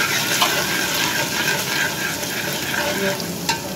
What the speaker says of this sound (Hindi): इसका मसाला भून लेंगे